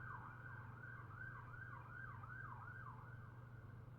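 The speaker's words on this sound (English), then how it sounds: "I'm sorry if you can hear the sirens." A police siren wails, rising and falling in a steady repeating cycle as it passes moderately distant, over a low constant rumble of traffic.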